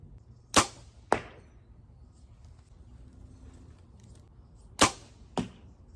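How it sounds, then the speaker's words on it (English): Arrows shot from a bow strike a 3D target outdoors in two pairs, each a sharp crack followed by a second thwack about half a second later, with quiet ambient pauses between the pairs. "I am gonna shoot my little 3D target out there too a couple times"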